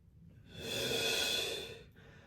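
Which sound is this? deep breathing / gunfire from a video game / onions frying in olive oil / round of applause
deep breathing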